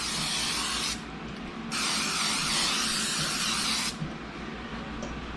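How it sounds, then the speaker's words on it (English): Cooking spray coats a lasagna pan in close, loud hissing bursts: a short spray, a brief pause, then a longer steady spray that stops abruptly, leaving quiet room noise. "You're going to need some pan spray or any kind of cooking spray, and you just want to kind of just lightly coat that."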